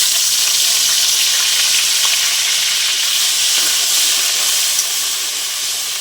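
Ghee, four or five bay leaves and panch phoron spices sizzle in hot oil in a pan for khichuri, a loud, steady frying hiss that carries on without a break.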